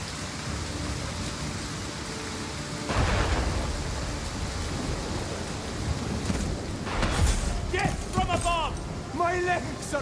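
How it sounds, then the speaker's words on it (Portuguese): Steady rain-like hiss from rain in Total War: Pharaoh Dynasties throughout, with a low rumble swelling in and out and people talking over it toward the end. "mas tá chovendo"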